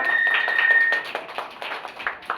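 Studio audience applause on a televised Indian quiz show, a dense steady patter of clapping that fills the room, then thins and becomes more scattered toward the end.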